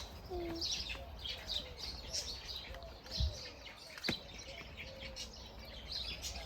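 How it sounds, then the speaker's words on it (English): Birds chirping and calling around a farmhouse near mountains and a mini zoo, with repeated short tweets and whistles over a soft outdoor background, a few faint thumps in between. "You can hear the birds sounds."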